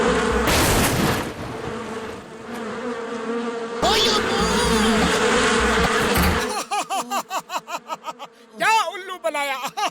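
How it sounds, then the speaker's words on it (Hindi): Giant cartoon mosquitoes buzz in a kid's animated comedy, a loud whining drone with wavering tones that gives way to a run of short, rapid rhythmic chirps and squeaks, mixed with voices talking. "वो जायंट मच्छर बन गए हैं"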